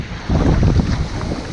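Strong 30-knot wind blowing over a sailboat near the Australian coast, a loud roaring gust buffeting the microphone with rumbling low noise that swells and then eases slightly, no talk.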